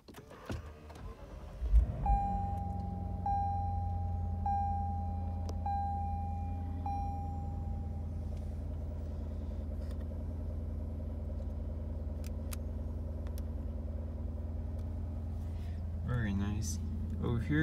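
A 2019 Lexus GS F is push-button started: its engine turns over and catches about two seconds in, then settles into a steady, deep idle that continues close and loud, with a few brief chimes early on.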